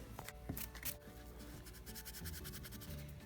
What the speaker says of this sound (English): since we have the nozzle off, we're going to go ahead and clean it too